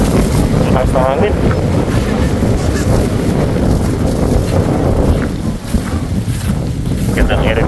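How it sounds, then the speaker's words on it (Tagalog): Strong wind buffets a boat on open water, a loud, continuous rushing roar against the microphone, with voices calling out over it now and then. "Lakas na hangin!"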